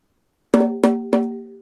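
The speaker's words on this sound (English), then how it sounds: "goes through the streets of the neighborhood with a drum, playing the drum and calling out to everyone" A musaharati's hand drum, beaten to wake people for the Ramadan suhoor meal, sounds three close, evenly spaced resonant strikes, each ringing out and decaying before the next, with no other sound.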